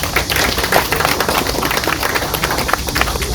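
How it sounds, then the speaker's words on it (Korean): An outdoor crowd claps steadily at a ceremony unveiling the Syngman Rhee and Truman statues at the Dabudong war memorial in Chilgok, a dense, even patter of many hands that holds throughout. "이철우 지사님에게 박수를 보내주시기 바랍니다"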